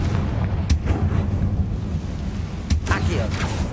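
A Confringo spell in the video game Hogwarts Legacy sets off two sharp, booming blasts a couple of seconds apart, against a rumbling background with some talk.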